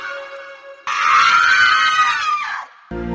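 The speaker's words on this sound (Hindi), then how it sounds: "पूरा जंगल भयानक चीखों से गूंज उठा।" A single long, piercing scream rises and echoes, loud and close, framed by eerie tonal drones before and after, evoking terrible cries of spirits through a forest.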